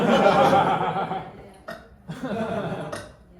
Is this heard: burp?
yes